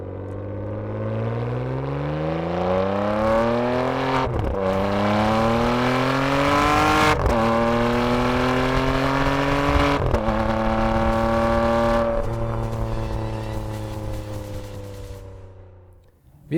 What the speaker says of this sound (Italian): con una colonna sonora agli alti regimi che solo un V12 aspirato riesce a dare